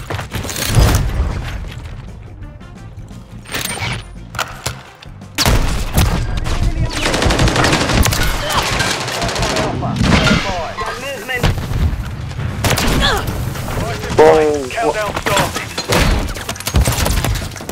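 Sustained gunfire in the Call of Duty Modern Warfare 3 video game, with repeated shots and heavy booming bursts that continue through the whole stretch and barely let up, loud and close, while voices chatter over the din.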